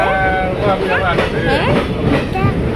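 A train rumbles steadily along the rails with a continuous rolling roar, heard from on board, while people talk over it nearby.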